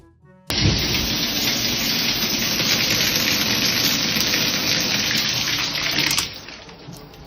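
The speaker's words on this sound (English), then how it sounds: "the same day the rain came and swooped it away" Heavy rain pours onto a freshly painted house in Florida, a sudden dense hiss of falling water that starts abruptly, stays loud and constant for about six seconds, then eases off.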